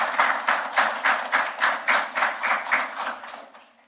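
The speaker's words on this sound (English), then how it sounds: "Can we have a round of applause for our new minister?" At a Government House swearing-in ceremony, applause for a new minister comes as about a dozen strong, regular clap-like pulses, loud and close, fading out near the end.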